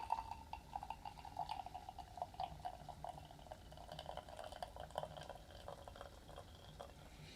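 Water pumped through a Kazak Rota 2 manual espresso machine while pulling a blooming allongé: soft trickling and dripping with faint bubbling, quiet and close, continuing steadily without talk.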